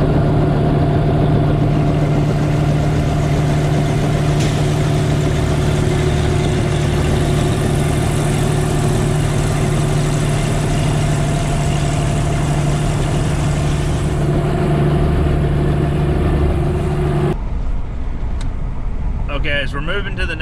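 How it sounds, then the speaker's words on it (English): A helicopter's flat-six, six-cylinder piston engine runs steadily at a constant drone from inside the cab, loud and continuous before cutting off abruptly near the end. "It is a six-cylinder engine. It's a flat six, so it's kind of got like an old-style VW engine in it."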